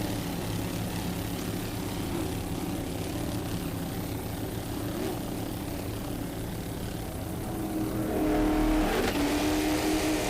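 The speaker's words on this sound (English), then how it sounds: "Nick Carter Racing, Mercury powered." A Mercury-powered offshore racing boat roars past during a 2002 powerboat race, a distant engine drone that swells louder toward the end with rising revs.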